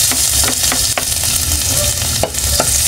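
Eggplant frying for adobo in a hot pan with a little leftover oil, giving a steady, close sizzle with intermittent scraping and clicking as the pieces are stirred.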